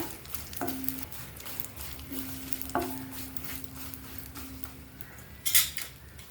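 Dried coconut and poppy seeds sautéing in hot oil in a pan over a slow flame for a colocasia poppy seed curry: soft stirring scrapes and a gentle sizzle, with a brief utensil clink near the end.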